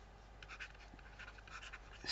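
Pen or marker writing out a trigonometric formula on paper or a board, a soft continuous scratching with small stroke bursts, faint and close, with no talking.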